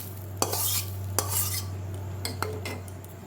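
Fried vermicelli is stirred into boiling milk in a pot, a spoon scraping and clinking against the metal in several distinct strokes over a low steady hum, with no talking.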